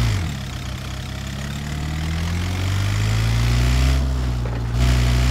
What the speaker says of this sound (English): I hear a motorcycle now.